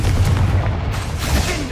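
In Hogwarts Legacy, a Confringo spell blast lands during a tomb fight as a heavy, low boom that rumbles loudly through a short burst of dense combat noise.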